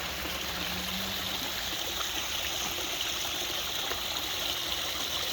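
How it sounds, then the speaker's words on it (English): Water from a backyard waterfall pours steadily into a fish pond at night, a constant close rushing and splashing wash with no break and no talking. "And of course, there's the waterfall."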